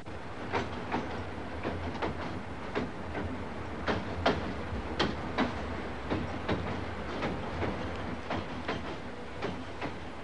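A train crosses the Burdekin River bridge at Ayr, Queensland, its wheels beating a steady clickety-clack rhythm of sharp repeated clicks over a low rumble, moderately distant and without voices.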